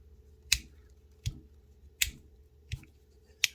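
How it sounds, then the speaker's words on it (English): Five crisp mechanical clicks from the Otacle P1 EDC multitool's mechanism, spaced roughly evenly about a second apart, close and distinct over a faint low background hum. "Nice click on there."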